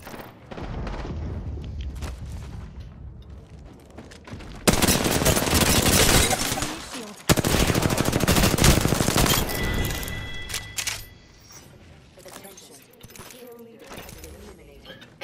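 Bursts of automatic gunfire in Apex Legends crackle in dense, loud volleys, the heaviest bursts in the middle, then the shooting thins out into quieter, more distant shots, with a voice speaking at times.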